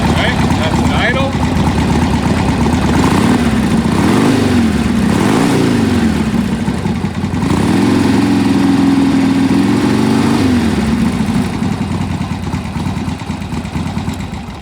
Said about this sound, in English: Get the bike fired up. Alright, that's an idle.